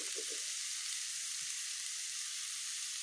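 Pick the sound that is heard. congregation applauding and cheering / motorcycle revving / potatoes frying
potatoes frying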